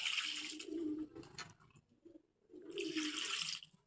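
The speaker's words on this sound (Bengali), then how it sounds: "এখন পানি দিয়ে দিব।" Water poured into a pan of small mola fish curry, two short splashing gushes separated by a brief quiet pause, close and fairly soft.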